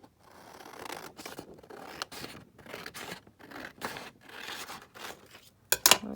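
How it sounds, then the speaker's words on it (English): Scissors trimming laminated paper for a junk journal project, a series of close, crisp snipping and rasping cuts with short pauses between them. "I need to trim this down, obviously. I'm just going to trim it down here."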